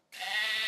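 A single sheep bleats once, loud and close, a sustained wavering cry of about half a second with no other sound around it.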